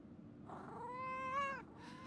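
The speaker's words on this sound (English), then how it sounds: "I appreciate the meows, but I'm very sad that it does not purr." A cat in the video game Pentiment gives a single drawn-out meow that rises and falls, clear but soft over a quiet background hum.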